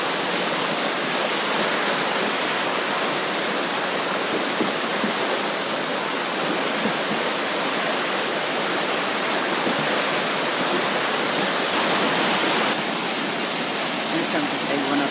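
A rushing river carries rocks, trees and debris down its course, making a loud, continuous broadband roar and wash that stays steady and close throughout.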